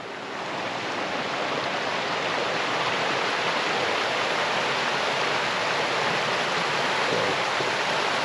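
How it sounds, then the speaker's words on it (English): A river runs below a campsite with a fire shelter, giving a steady, broad rushing wash that stays even and fairly loud throughout, with no voices over it. "Got the river running down there."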